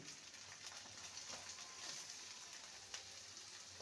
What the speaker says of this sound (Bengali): পেঁয়াজটাকেও ভেজে নেব